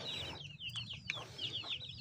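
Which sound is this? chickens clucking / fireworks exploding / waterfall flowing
chickens clucking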